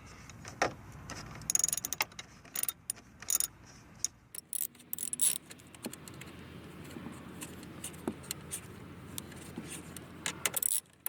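A ratchet undoes a 7mm bolt on the dash trim of a Chevy Impala, giving sparse quick clicks and light metallic ticks, faint and close, separated by handling noises and quiet gaps.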